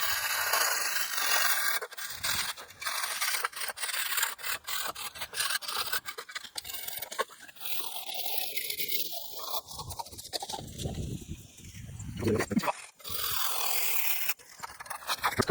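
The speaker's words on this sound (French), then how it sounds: "il faut juste que je gratte un petit peu le bas" Steady rasping scrape of a tool working the bottom of a masonry wall sill, close and continuous with rough, uneven strokes and brief pauses, no talk.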